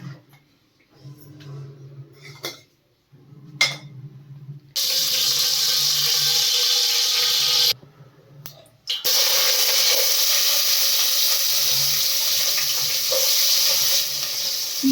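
Ghee goes into a hot pan for fenugreek-leaf pulao, bursting into a loud, steady sizzle that cuts off briefly and then resumes strongly, after a quieter stretch with faint kitchen noises.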